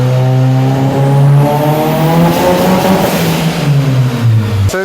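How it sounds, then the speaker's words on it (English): Turbocharged SR20DET engine in a 400 WHP Lancer drift car, loud and close, revving with rising and falling pitch sweeps that waver and stutter unevenly as boost comes in. "So there's still a lot of juddering and stuttering when it starts to hit boost."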